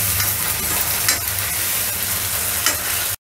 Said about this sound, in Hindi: इसी तरह चलाते हुए हमने प्याज को अच्छे से भून लेंगे